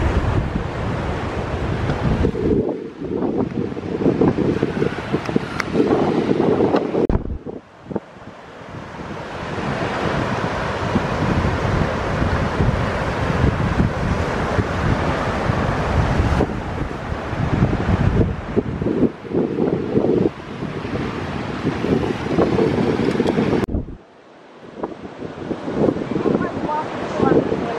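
Loud, constant roar of Atlantic Ocean surf and gusting wind buffeting the microphone on a public beach, dropping briefly twice, with a person speaking a word in passing.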